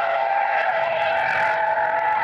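Car tires skidding and squealing after a sharp steering swerve without stability control, a loud continuous high screech that holds steady throughout.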